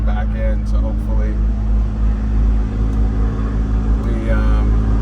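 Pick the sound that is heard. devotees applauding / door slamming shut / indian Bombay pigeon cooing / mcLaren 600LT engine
mcLaren 600LT engine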